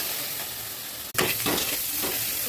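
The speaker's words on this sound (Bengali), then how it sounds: "একটু হলুদ দেবো, দিয়ে আবার মশলা একটু ভালো করে কষা দেবো" Spices with turmeric sizzle steadily in a hot pan, with a brief scrape of stirring partway through and loud frying continuing after.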